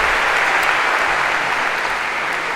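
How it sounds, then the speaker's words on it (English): A lecture-hall audience in a CS50 computer science class gives a steady, dense round of applause for a guest professor, loud and continuous throughout with no talking over it. "Perhaps a round of applause for our special Professor Gav."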